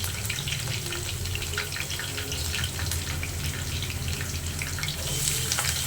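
Curry leaves frying in hot oil for a brinjal masala curry, giving a steady close sizzle and hiss throughout with a watery crackle and no talk.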